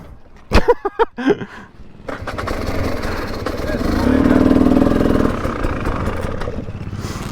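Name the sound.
KTM TPI 300 two-stroke enduro motorcycle engine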